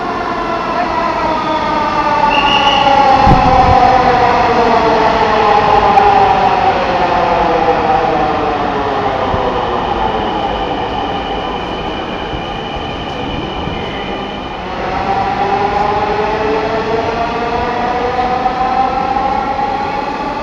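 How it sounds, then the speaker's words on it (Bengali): A Dhaka metro rail train pulls into the station, loud and close, its motor whine sliding down in pitch through several harmonic tones, then rising again as it powers up, with rumbling wheels underneath. "ট্রেন চলে আসছে"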